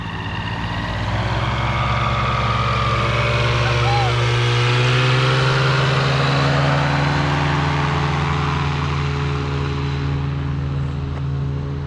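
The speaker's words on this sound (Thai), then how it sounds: "นักบินของเราก็ได้ลดความเร็วของเครื่องยนต์ลงเพื่อที่จะเตรียมแลนดิ้งแล้วนะครับ" A steady light-aircraft engine drone hums throughout, loud and close, its pitch easing slightly lower as power is reduced for landing, with faint talking underneath.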